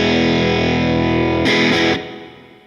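A heavily distorted electric guitar chord through a Line 6 HX Stomp amp modeler and Powercab 112 Plus speaker rings out loud and saturated, swells briefly, then is cut off and decays into quiet.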